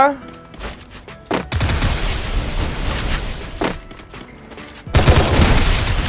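Gunfire in a shooter video game, loud rapid bursts of shots and impacts that come in waves, with a fresh heavy volley near the end.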